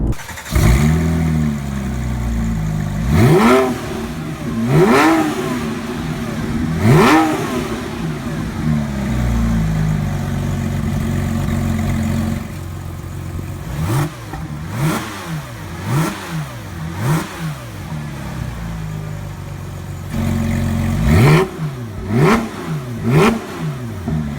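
A Porsche 997.2 GT3 RS flat-six revs repeatedly through its aftermarket exhaust, with sharp rising blips and a sustained rev, loud and close, punctuated by brief idle pauses and no talk.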